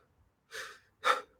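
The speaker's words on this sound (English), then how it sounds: "Short, shallow breaths into the chest." A man takes two short, shallow panting breaths into the chest, each a quick airy gasp with a brief pause between them. Nothing else is heard.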